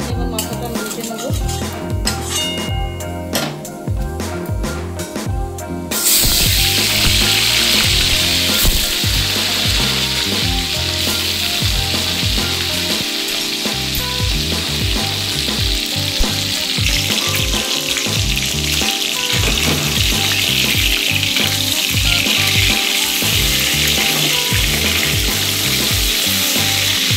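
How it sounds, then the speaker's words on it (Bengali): Hilsa fish heads frying in hot oil, a loud continuous sizzle that jumps up sharply after a few seconds and then crackles steadily, with occasional stirring clatter. "এই তেলের মধ্যে আমি এবার মাথাটা ভেজে নেবো"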